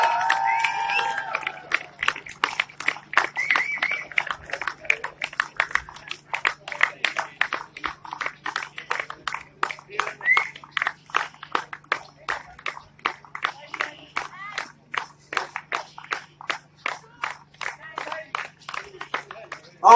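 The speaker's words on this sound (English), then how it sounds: "Big round of applause." Spectators clapping for a runner at a charity run event, a long stretch of quick, sharp handclaps that stays fairly steady throughout, with some talk and cheering mixed in.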